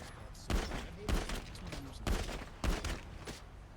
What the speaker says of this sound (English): I'm shooting everybody.